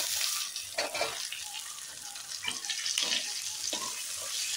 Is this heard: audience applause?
no